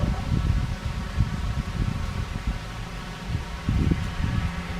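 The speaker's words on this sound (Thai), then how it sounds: "ลมมาเลย" Gusty wind blowing outdoors at a roadside shrine, a steady low rumble with rustling that swells and eases throughout, with no talking.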